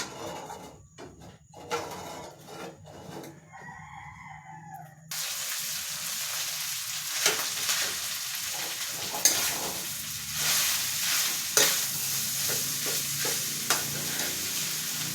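Day-old sinangag fried rice frying and being stirred in a kawali, a steady loud sizzle throughout with repeated scraping strokes of the spatula, growing fuller after the first few seconds, with no talking.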